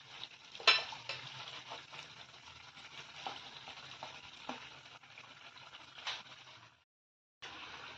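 Gokul pitha frying in oil gives a soft, steady sizzle with light bubbling and occasional utensil clinks, fairly quiet and close, cutting out briefly near the end before resuming.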